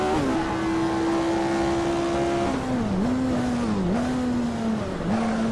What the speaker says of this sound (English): Decent engine sound.